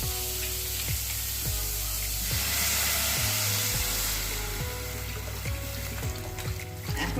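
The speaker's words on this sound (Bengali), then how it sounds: "এখন আমি এর মধ্যে জল দিয়ে দেবো" Water splashes into a pot holding onion, ginger and carrot for a chicken soup, a continuous pouring gush with hiss and sizzle over a low hum and repeated faint clicks, no speech.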